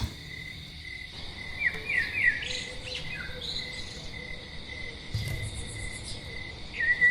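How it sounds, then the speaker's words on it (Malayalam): An Asian koel calls a few times with rising whistled notes, moderately distant, over a steady chirring of crickets. "അത് കുയില"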